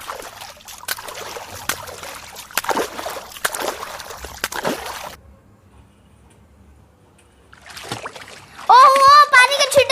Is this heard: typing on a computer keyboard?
no